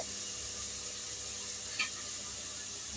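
Onions and tomatoes sautéing in a pan for mutton biryani give a soft, steady sizzle with faint hiss throughout and one brief scrape of stirring near the middle, with no talk.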